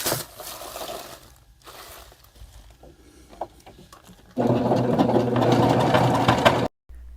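A sewing machine stitches a tight zigzag around fur-suit paw pads, its motor humming in short stop-start runs before a loud, steady burst of rapid mechanical stitching near the end.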